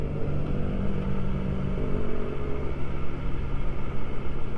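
Motorcycles, including a BMW S1000R, pass on a winding mountain road in Okumatama, their engines a loud, close rumble that rises and falls as they accelerate by.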